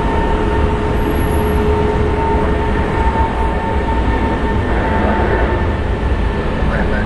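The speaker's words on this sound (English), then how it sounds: "it's a 777-300 heading to JFK" A Boeing 777-300 airliner's jet engines at Dallas Fort Worth airport, a loud sustained roar with steady tonal whine lines that runs unbroken throughout and has no clear speech over it.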